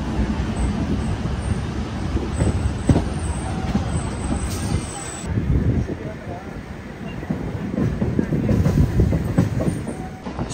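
A Vijayawada to Narsapur MEMU express rolls along with a constant rumbling clatter of wheels and carriage, heard from inside the train, with faint high squeals over the steady din.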